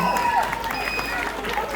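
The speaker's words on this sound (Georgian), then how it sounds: "აპლოდისმენტები" A crowd claps steadily at a sports award ceremony honouring Georgian championship medalists, a continuous patter of applause under a speaking voice.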